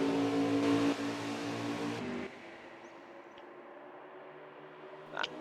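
NASCAR Cup cars race at Las Vegas Speedway, and engines drone loudly at the start before fading into a distant whine, with a brief passing rise near the end.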